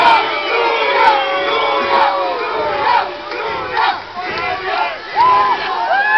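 Crowd at a bikers-week sumo match shouting and cheering to urge on the wrestlers, many overlapping yells and whoops swelling and dipping, loud and sustained, with children's voices among them.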